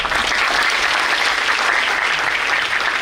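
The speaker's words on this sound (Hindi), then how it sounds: "ये आपका बहुत अच्छा है, ताली बजाते बजाते रहना, ठीक है।" Sustained, dense applause from a seminar audience at a motivational event for students, steady and loud throughout with no pauses and no voices standing out.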